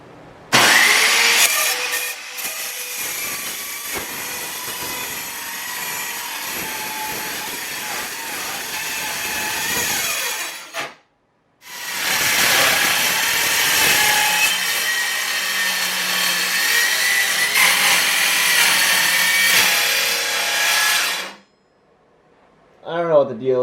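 An Eastwood mini metal saw cuts metal for a flat pack fire pit build and binds up. It gives two long, loud, grinding cutting runs separated by a brief stop, then falls silent.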